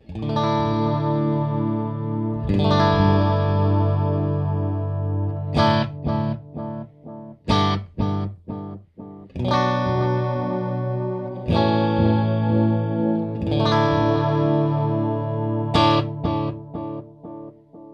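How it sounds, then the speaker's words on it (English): Electric guitar chords and picked notes through an Alexander Pedals Amnesia delay pedal, ringing with a shimmering chorus and trailing delay repeats, strummed in phrases with clear gaps between them. "And then we will go over to the chorus with the delay."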